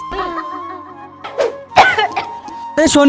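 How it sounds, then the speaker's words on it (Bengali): A girl coughs in a few short, harsh bursts spaced irregularly, with breathy throat sounds between them, close and fairly loud. "আমার তো কাশি পাচ্ছে"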